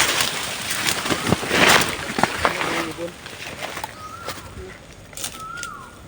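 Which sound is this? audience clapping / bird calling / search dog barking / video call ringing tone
bird calling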